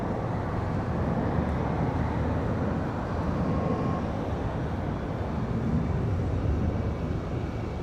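A Volaris airliner passing at Charlotte Douglas airport on a windy day, a steady broad roar of jet engine noise holding at a constant loud level throughout with no talking.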